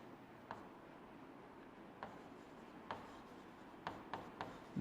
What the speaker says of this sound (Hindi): जैसे जैसे मैं लिखते जा रहा हूं वैसे वैसे आप भी लिखते जाइए